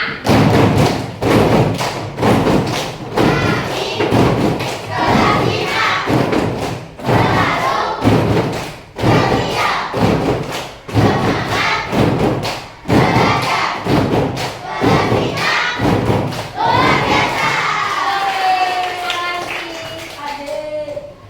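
A class of Indonesian fifth-grade schoolchildren performs a rhythmic class clapping routine in a classroom: loud, closely patterned bursts of group clapping with chanted voices repeat steadily, then give way near the end to a single adult speaking.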